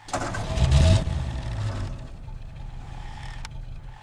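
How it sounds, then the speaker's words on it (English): A car engine cranks and fires up with a loud burst, then revs briefly before settling into a steady, lower rumble. "The car goes vroom, vroom as it drives."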